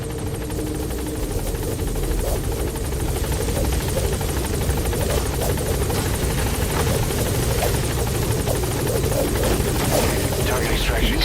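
Support helicopter arriving at a landing zone in the video game Metal Gear Solid V: The Phantom Pain, its rotor beating loud and steady throughout with a droning engine, while radio-style voices speak over it.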